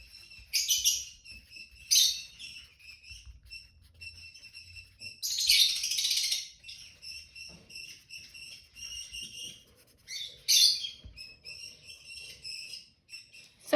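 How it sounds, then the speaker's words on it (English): Baby lovebirds chirp in bursts while being fed, shrill overlapping tweets coming in clusters with short quiet gaps, close and fairly loud with no talking. "my baby lovebirds are being fed right now"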